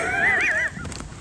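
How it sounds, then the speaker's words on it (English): A horse at a winter barn gives one loud, close, wavering whinny lasting under a second, followed by faint rustling. "Horse."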